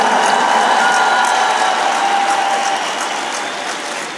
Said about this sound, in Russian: Я прошу аплодисментами поблагодарить организаторов.